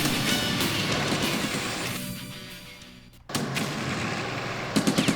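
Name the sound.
incoming gunfire in the video game Stalingrad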